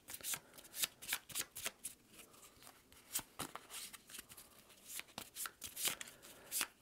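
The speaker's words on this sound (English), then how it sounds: "I'll get our scavenge deck, give that a shuffle" A deck of scavenge cards for the Shadows of Brimstone board game being shuffled, a close, steady run of crisp riffling bursts with no voices.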